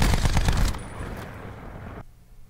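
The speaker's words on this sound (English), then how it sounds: "am I just hearing people fucking shoot?" Rapid automatic gunfire in Call of Duty: Black Ops 4 Blackout rattles loudly for under a second, then trails into a fading rumble before cutting to near silence.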